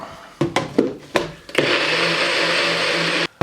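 A blender whirs steadily for a couple of seconds, blending peri peri sauce ingredients including oregano, after a few short knocks and bumps at the start; the motor is close and loud, and no one speaks.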